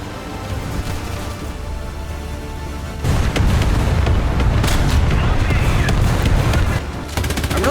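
Tank cannon fire in the War Thunder game: a low rumbling battle ambience gives way to a heavy blast, followed by dense crackling gunfire and booms that stay loud before easing near the end.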